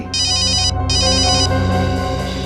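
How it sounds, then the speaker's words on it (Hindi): A telephone rings twice in electronic bursts, followed by a lingering tone, loud and close with no one speaking. "रेडियो स्टेशन से फोन है सर?"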